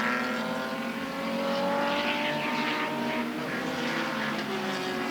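Vintage SVRA Group 5, 8 and 12 race cars roar past at Mid-Ohio in 2020, a dense, continuous engine drone with rising and falling pitches as several cars pass, steady and loud throughout.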